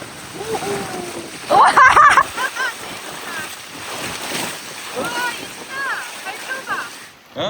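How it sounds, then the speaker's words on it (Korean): Ocean waves breaking near Saipan, rushing surf and splashes heard from a boat with wind buffeting the microphone, while excited voices and children's shouts carry over the water. "저기 파도는 또 멋있게 친다."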